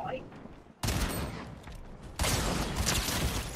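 Rapid bursts of gunshots in Fortnite during a duo tournament match, loud volleys that jump up in level partway through, with a voice underneath at moments.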